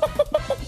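A person vocally imitating a hen's clucking, four short, loud, close clucks in a quick, even rhythm.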